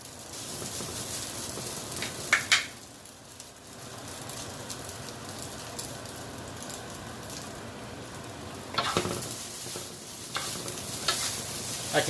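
Noodles and vegetables with rotisserie chicken being stir-fried and tossed in a hot pan at home, a steady close sizzle with scraping stirs and two bursts of louder tossing.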